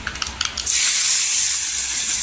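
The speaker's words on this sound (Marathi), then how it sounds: "अशी फोरणी बसली पाहिजे छान अशी आवाज झाला पाहिजे" Hot phodni tempering poured over boiled green chillies bursts into a loud, sustained sizzle and hiss after a few light clinks, staying steady and close for the rest of the moment.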